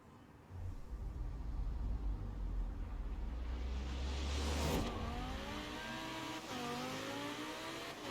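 McLaren 570S engine in Forza Horizon 4, a loud steady drone that climbs and shifts pitch as it revs through gears, with a sharp burst near the middle and no talk over it.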